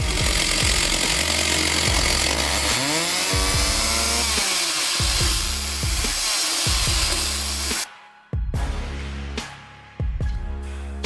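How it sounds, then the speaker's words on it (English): A homemade chainsaw machine with a chainsaw holder cuts firewood, its loud engine whining steadily through repeated cuts, with brief drops in pitch as the chain bites into the logs and short pauses between cuts. "Chainsaw holder adds stability, but demands respect."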